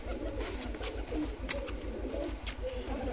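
A large, well-bred pigeon coos close by in a steady rhythm of soft, low repeated pulses, with faint chirps and background noise around it.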